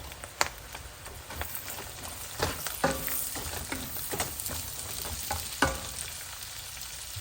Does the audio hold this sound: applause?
no